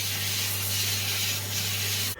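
A belt grinder runs steadily against a steel axe head, smoothing out scratches, giving a continuous loud abrasive hiss over a low motor hum that holds for about two seconds before cutting off abruptly at the end.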